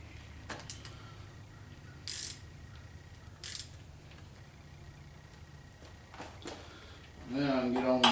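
A gear wrench clicks as it ratchets on bolts during a Chevy 350 engine rebuild, with a few brief metallic bursts and soft mechanical handling noises, then a louder tonal clatter near the end.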